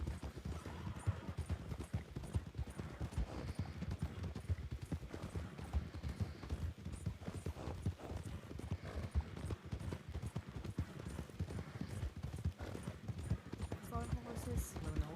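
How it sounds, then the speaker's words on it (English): Horse hooves clip-clop steadily and close in the RedM game world, a dense continuous trot running throughout, mixed with faint ambient noise and occasional voices. "Horses."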